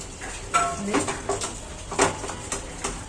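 A cooking pot's lid is lifted while a semolina snack filling is prepared, giving a few light metallic clinks and taps at close range over a quiet kitchen background.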